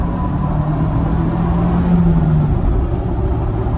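A modified 2022 Ford Bronco Big Bend accelerates under turbo boost, a loud, steady engine drone with rising tone heard from inside the cabin, mixed with road and wind noise.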